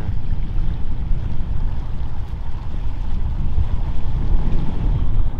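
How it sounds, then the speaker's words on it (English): Strong wind buffets the microphone beside a flooded road that has washed away after heavy rain. The rumble is loud and constant with low gusty roaring, and no one talks. "It's pretty windy."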